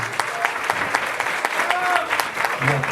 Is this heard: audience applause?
yes